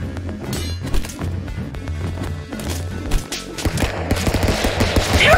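Rapid, cartoonish gunfire in Stick Fight: The Game, with many quick shots and impacts piling up over a steady game music bed and growing denser toward the end.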